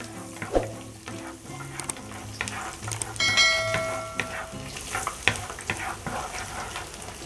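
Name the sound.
garlic frying in a pan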